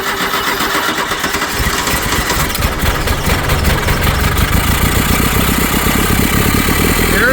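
A 1983 K-Car wagon with a five-speed, sitting unused for 30 years, cranks over and then settles into a rough idle. The engine is loud, close and continuous, with the rumble steadying toward the end and no talking over it.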